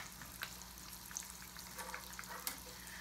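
A whole catfish frying in hot oil, a faint, steady sizzle with scattered small pops and crackles, heard close and alone.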